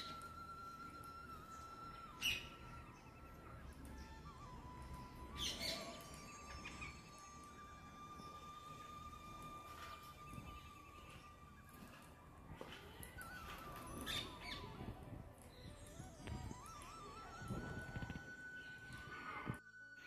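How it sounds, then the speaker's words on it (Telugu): Parrots chirping and calling outdoors, sharp high squawks and whistling tweets scattered over a faint steady background, fairly distant and irregular across twenty seconds. "చిలుకలు ఎలా అరుస్తున్నాయో, కిలకిల రావాలతోటి చూడండి ఎలా ఉన్నాయో."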